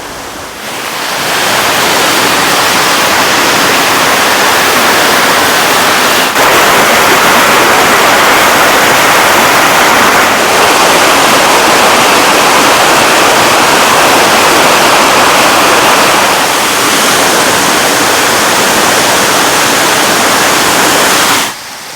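Waterfall at Aadupara Thodu near Chakkappalam, Kerala, roaring as a loud, steady broadband rush of falling water that fills the whole stretch without pause, close to the listener.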